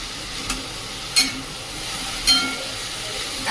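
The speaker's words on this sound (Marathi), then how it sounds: "अशा पद्धतीने फक्त आपण ही फ्लावर आता परतून घेणार आहोत" Finely chopped cauliflower sautéing in a pan for cauliflower bhaji, a steady soft sizzle with a few brief stirring scrapes, close and fairly quiet, no talking.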